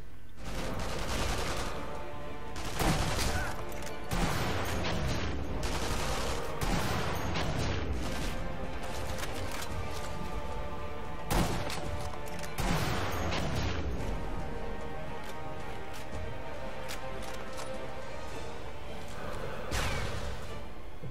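Gunfire in the video game Sniper Elite V2, several sharp loud shots and bursts scattered over about twenty seconds with ringing tails and background battle noise between them.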